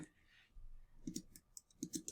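Soft computer mouse clicks, several quick light taps in pairs and singles, faint and close in a quiet room.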